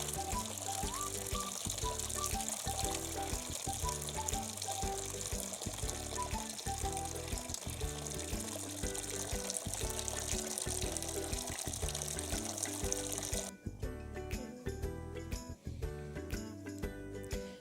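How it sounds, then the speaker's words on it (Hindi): Water drains and trickles from a pot of cooked mustard greens for sarson ka saag, a continuous close pouring splash that changes character near the end. "ये मैंने पानी उतार लिया अच्छे से।"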